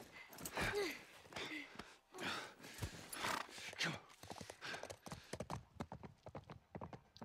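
Horse hooves clip-clop in The Last of Us Remake video game, a run of irregular hoof thuds with a whinny early on, fairly faint, while a person talks over them.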